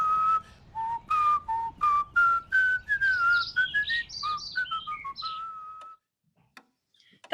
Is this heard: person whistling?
yes